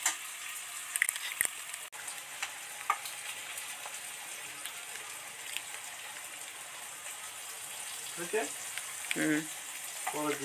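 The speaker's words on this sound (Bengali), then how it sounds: "এটা নেড়ে একটু ভাজা ভাজা হোক" Chicken sizzles and crackles steadily in a hot pan, with a few clinks of stirring and brief voices near the end.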